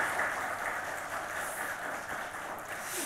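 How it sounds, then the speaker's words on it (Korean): A Korean church congregation applauding to welcome a visiting missionary family during Sunday worship, a soft, even wash of clapping from many hands, heard at a distance with no talking. "그래도 일어나시면 우리 박수로 한번 맞이해 주겠습니다"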